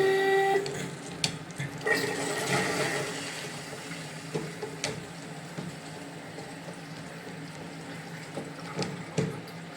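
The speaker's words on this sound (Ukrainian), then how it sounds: "Ну що, пробую провести пуск води." Water running into the cistern of a newly installed wall-hung toilet, a steady hiss and gurgle with faint trickling and a few small clicks, close by and alone with no talk.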